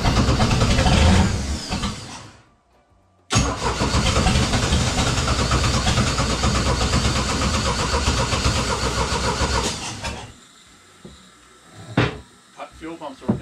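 A Chris Craft boat engine cranks and then catches into a loud, steady running roar, cutting off abruptly after several seconds, with a brief silent gap before it and people talking around it.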